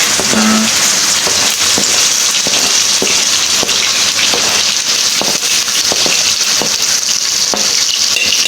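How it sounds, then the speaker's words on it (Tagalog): Garlic and onion sautéing in cooking oil for pakbet, a dense steady sizzle with scattered scrapes and clicks from stirring, close and loud throughout. "Nilagyan na rin po ni Nanay ng mantika pang gisa po sa mga regado"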